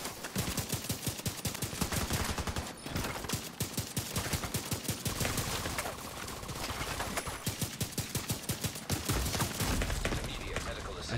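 An MG5 light machine gun firing in The Division 2, a long run of fast, evenly spaced shots at close range with brief pauses, while a voice talks over it.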